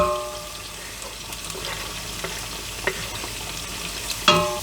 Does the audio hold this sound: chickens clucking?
no